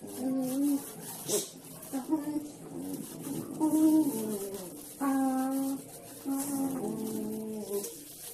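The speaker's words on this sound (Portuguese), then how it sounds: "Esses barulhos que tá escutando é os cachorros" Dogs in a home whimper and whine in high, wavering cries that come in short bursts over several seconds, fairly close, with no clear talk over them.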